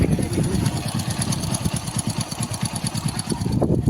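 A Hero Passion motorcycle engine idles steadily with a rapid, even putter and a faint rattling hiss on top, close and constant.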